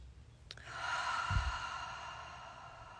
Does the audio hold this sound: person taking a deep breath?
yes